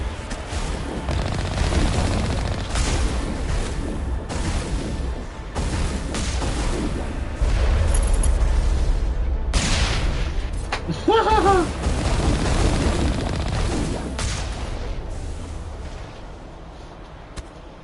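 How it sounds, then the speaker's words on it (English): Rapid gunfire crackles through a Mass Effect 1 firefight in the Legendary Edition, with loud bursts of shots and booming impacts in uneven volleys, and a voice briefly calls out partway through. "who's shooting at me?"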